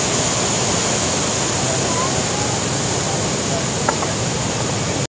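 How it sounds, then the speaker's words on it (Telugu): Bogatha Waterfall in Telangana pours continuously, a loud, close, unbroken roar of falling water that stays even from start to finish before cutting off abruptly. "ఈ వాటర్ ఫాల్ అనేది ఇవాళే తక్కువ ఉందా, ఎప్పుడు అలాగే ఉంటుందా?"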